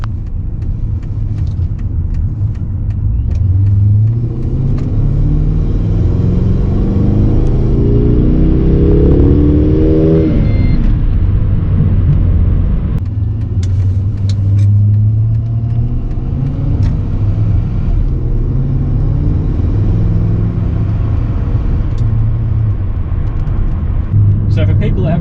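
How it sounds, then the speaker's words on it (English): Holden Monaro with a supercharged engine drives off with a deep engine rumble that rises through a revving climb, drops back and then settles into a steady cruising drone, loud and close inside the car. "I'm going to take it for a drive"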